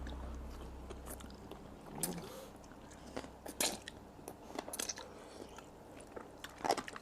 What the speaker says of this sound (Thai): กรอบ กรอบ กรอบ